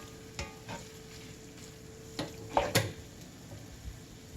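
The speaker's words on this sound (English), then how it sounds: "Going to add just a little bit more water. Give it a good stir." Taco mac of noodles and water being stirred in a hot cast iron skillet, soft scraping strokes and clinks over a low, steady sizzle.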